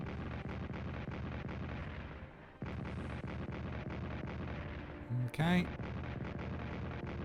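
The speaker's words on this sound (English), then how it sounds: "Bit of artillery from the Brits." Distant artillery booms in the World War 1 strategy game Strategic Command, a couple of low, rumbling impacts over a steady ambient game bed, followed by a brief sharp burst near the end; a voice speaks briefly.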